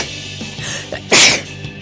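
A single loud, sharp sneeze bursts out close to the microphone, a quick breathy explosion that follows a few quieter throaty sounds.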